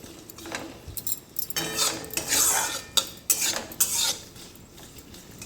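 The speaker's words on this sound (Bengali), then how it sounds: "চিনিটা দিয়ে ভালো করে আমি একটু নাড়িয়ে ছাড়িয়ে যতক্ষণ না চিনির কালারটা লাল হয়ে আসছে তো ততক্ষণ আমি এটা ভেজে নেবো" Sugar being stirred and fried in a pan until it reddens, with a spoon scraping and clinking against the metal in bursts, close up, a faint sizzle underneath and no talk.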